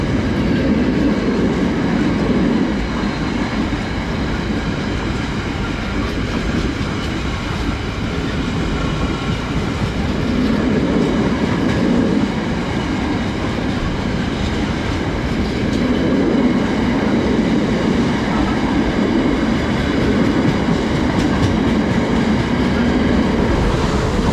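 Class 450 electric trains run through a railway station between Clapham and Windsor, a loud, steady rumble of wheels and traction noise that swells and eases over the whole stretch with no voices.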